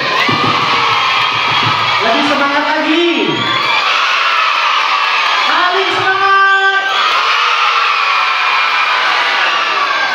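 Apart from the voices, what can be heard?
children clapping and shouting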